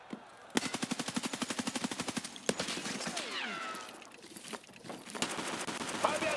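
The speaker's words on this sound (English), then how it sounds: "I just pulled out my pistol and killed him" Pistol fire in the Escape From Tarkov Arena shooter game: a fast run of sharp gunshots at first, then scattered shots mixed with other game noise and someone speaking.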